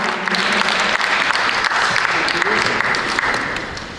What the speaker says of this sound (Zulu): Ngicela simshayele ihlombe.